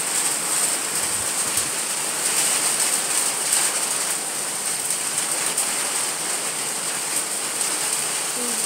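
Steady, dense rain hisses throughout, a constant broadband wash with no breaks, during a sudden storm that arrived with strong wind; no clear gusting stands out, and no one speaks.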